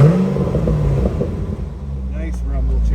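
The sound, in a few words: 2006 Chevrolet Corvette engine rumble through Corsa exhaust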